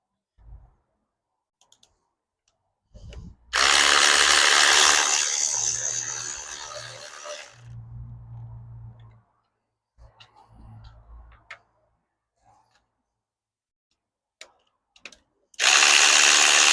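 A ratchet wrench works the 10mm bolts on the thermostat housing of a 2.0T FSI engine, giving short runs of quick clicks between louder noise bursts and quiet gaps.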